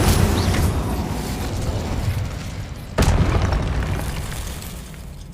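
A fire spell goes off in the game Hogwarts Legacy as a loud, roaring whoosh of flame, with a second sharp burst about halfway through, full and close amid game effects.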